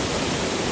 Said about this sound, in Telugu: అసలు వాటర్ ఫాల్ ఇప్పుడు చూపిస్తాను